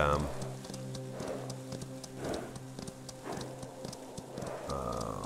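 Horse hooves clip-clop steadily in the video game Citadel: Forged With Fire, a rhythmic run of thuds over a sustained musical tone, with a voice talking over it.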